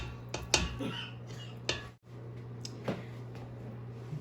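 Bran and banana mixture being mixed into muffin batter for banana chocolate chip bran muffins, with a spoon clinking and scraping against a bowl in a few distinct knocks over a low background hum.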